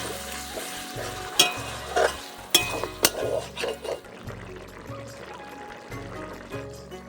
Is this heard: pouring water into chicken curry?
yes